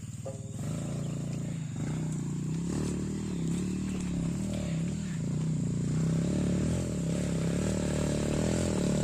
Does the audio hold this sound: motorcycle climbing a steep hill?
yes